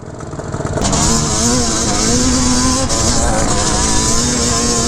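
A Banshee ATV engine at Dumont Dunes holds a loud, close, sustained high rev with a buzzy two-stroke tone and slight pitch swells, heard alone.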